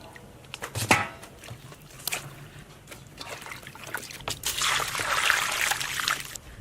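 Tap water runs and splashes while lamb offal is washed by hand, with a sharp knock early on, scattered clatters, and a louder gushing stream near the end.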